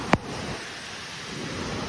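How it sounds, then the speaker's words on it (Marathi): Heavy rain pours down steadily in a village during a sudden downpour, a dense, even hiss throughout, with one brief sharp knock near the start. "पाऊस जोरात येतो एकदम जोरात"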